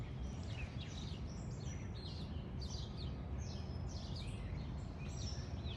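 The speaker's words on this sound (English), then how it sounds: "And all the bird chirping" Birds chirp outdoors near woods, with repeated high tweets spread evenly through the clip over a constant soft background hiss of nature ambience.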